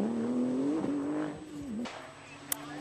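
A Ford rally car at the Rallye du Limousin brakes and then accelerates on a tricky stage, its engine note holding steady, dipping under braking and climbing again, heard moderately close with a faint sharp click near the end.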